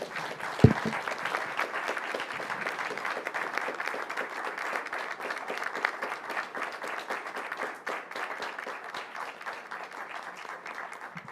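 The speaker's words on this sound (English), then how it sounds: "A big round of applause for this team." A sustained round of audience applause for a team receiving an award, thick and even for several seconds with a sharp clap or knock near the start before the clapping tapers slightly toward the end.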